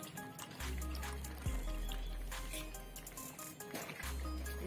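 A spoon stirs salt, sugar and tomato ketchup into thick homemade Schezwan sauce in a pan, making faint, wet, squelching scrapes close by at a soft, steady level.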